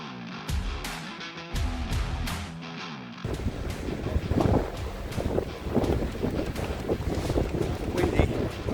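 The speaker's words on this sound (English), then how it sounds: "Windy, running along the beach." Strong wind gusts buffet the microphone in a continuous rough roar on a cool, cloudy beach during a marathon run, with footsteps and a voice heard over it.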